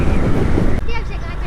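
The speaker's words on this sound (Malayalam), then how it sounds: "നല്ല കാറ്റ്, തണുപ്പ്, അടിപൊളി." Strong wind roars and buffets the microphone during a motorbike ride, loud and steady throughout, with a brief voice surfacing near the end.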